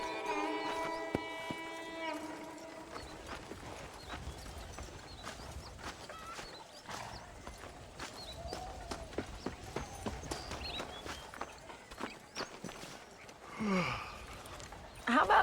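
Horse hooves clip-clop in a steady rhythm through Red Dead Redemption gameplay. A whinny and ambient game sounds mix in, and the hoofbeats stay moderately close from start to finish.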